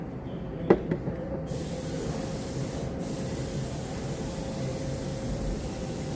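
Compressed air blasts debris off a lawn mower engine, a loud, steady close hiss that runs on without a break after a couple of brief knocks at the start.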